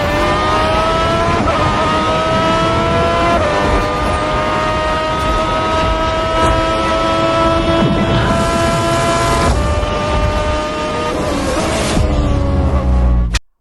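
A Nilu27 hypercar engine revs hard and loud, its pitch climbing and dropping through repeated throttle blips and sweeps for about fourteen seconds before cutting off abruptly.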